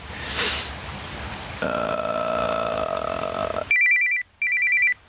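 A burst of noise gives way to a steady hum, then an electronic phone ring sounds twice in short bursts, loud and close.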